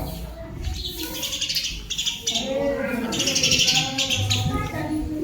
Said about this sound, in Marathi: चिमण्या ना काय आवाज करू राहिले.